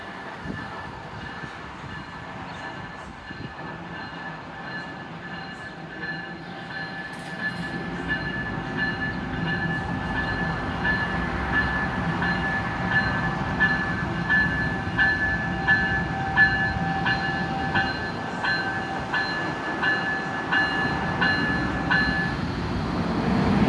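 An Amtrak train hauled by an ACS-64 electric locomotive, unit 620, rolls through Metropark Station in Iselin, New Jersey, with a steady rising rumble, sustained tonal whine and rhythmic wheel clatter, fairly near.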